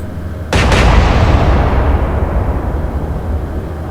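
A battleship's naval guns fire a salvo in the video game Atlantic Fleet: a sudden, loud double crack that swells into a deep, sustained roar and rumble slowly dying away over several seconds.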